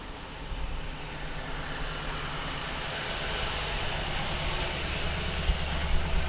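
A 1967 Ford Mustang GT idles with a steady, low, rumbling engine note that holds close and even throughout, with no voices.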